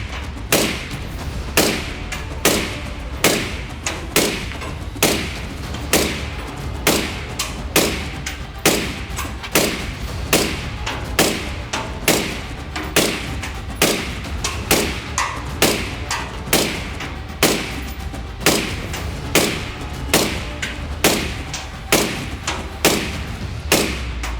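Suppressed 5.56 NATO rifle shots, an even train of sharp muffled cracks at roughly one per second with a brief ringing tail after each, no talking.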